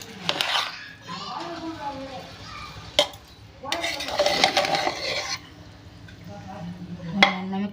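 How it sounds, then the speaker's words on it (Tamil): A spoon stirs cooked vegetables with ghee in a pressure cooker over a wood-fire stove, producing repeated metallic scrapes and clanks against the pot, close and moderately loud, while people talk and a voice is heard nearby. "இப்போ நம்ம வந்து கிளறி விட்டுக்கலாம்"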